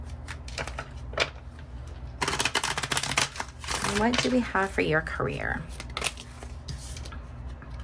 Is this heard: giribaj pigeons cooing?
no